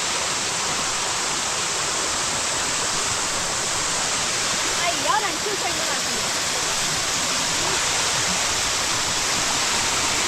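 Mountain water pours down steadily along a trek on Netravathi Peak, a loud, continuous close rushing and splashing roar that fills the whole clip, with a faint voice briefly audible midway.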